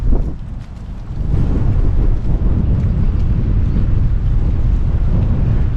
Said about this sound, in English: Windy here today, guys.